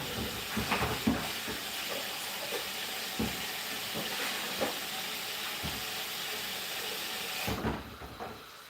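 Utensils being washed during live cooking of fish balls in peanut butter sauce: steady hiss of running water with occasional faint clinks and knocks of dishes, continuous and moderately quiet, ending as the water stops.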